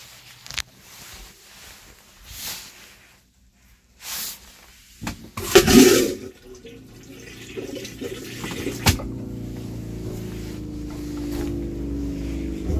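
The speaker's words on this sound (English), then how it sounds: "That's the water pressure pump and then the vacuum flush uh, pump as well." A boat's marine toilet being flushed: a loud vacuum whoosh and water gush from the vacuum flush pump, followed by the steady whir of the water pressure pump running alone with no talk.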